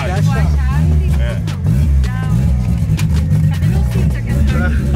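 A modified car's engine runs steadily after a push-button start, a loud low rumble that fills the whole stretch, with people talking over it.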